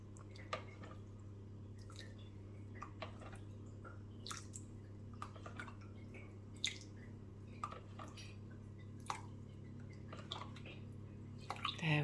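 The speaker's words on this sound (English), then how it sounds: "we're going to add 8 tablespoons of water" Lukewarm water, eight tablespoons, added bit by bit to a gluten-free flapjack mixture, giving soft drips and wet squishing sounds over a steady low hum, with occasional sharper clinks.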